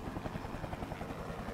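Helicopter rotor thumping from the video game Serious Sam 3 BFE, a rapid even chop held steadily at moderate volume with no voices over it.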